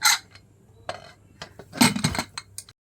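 Metal tiffin box set into a pressure cooker and the lid closed, a series of close clanks, clinks and scrapes of metal on metal in a quiet kitchen, ending in silence.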